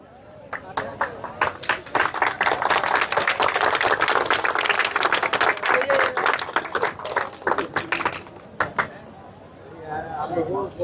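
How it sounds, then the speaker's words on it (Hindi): Crowd applause at a village football tournament prize ceremony, sharp hand claps building into a sustained burst of clapping before tapering off, with someone talking over the start and end. "इसलिए तालियों की आवाज आनी चाहिए"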